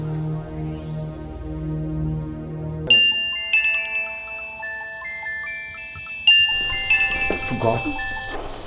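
A mobile phone ringtone for an incoming call chimes in bright, repeating melodic tones that start abruptly partway through, following a stretch of low music, then sounding in two loud bursts.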